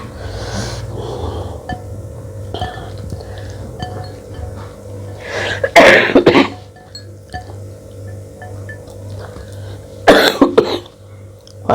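A woman eating fried snacks and soup coughs, with a few harsh coughs and throat clearing in short bursts near the microphone over a low steady hum, plus light clinks of eating.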